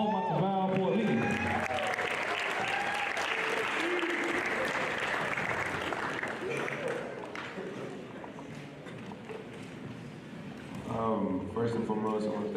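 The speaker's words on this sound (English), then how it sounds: "a big round of applause for Paul Matavao Poialii" An audience at a football player's signing ceremony gives sustained, loud applause that continues throughout, with voices mixed in and a short dip before it swells again near the end.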